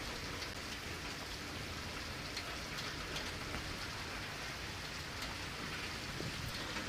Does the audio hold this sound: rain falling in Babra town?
yes